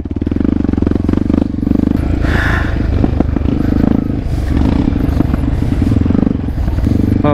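A supermoto motorcycle engine drones loudly and continuously on a slippery off-road trail, with rattles and clatter over rough ground and brief rises in revs.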